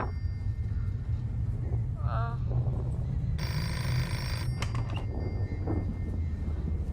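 A synthetic phone ring from the video game Hello Guest trills briefly for about a second amid a constant low rumble and some faint talk.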